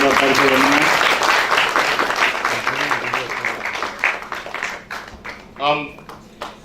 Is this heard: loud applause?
yes